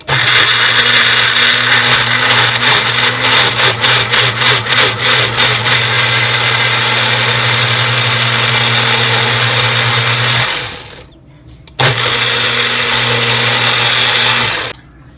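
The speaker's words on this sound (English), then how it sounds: "It's a magic bullet, guys, okay?" A Magic Bullet blender purées green beans into baby food, a loud steady motor whine with pulsing churn that runs continuously, cuts out briefly, then resumes before stopping.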